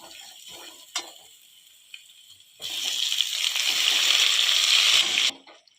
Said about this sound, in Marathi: मेथीची भाजी घातल्यावर आपल्याला एखाद मिनिटभर चांगली तेलात परतून घ्यायची आहे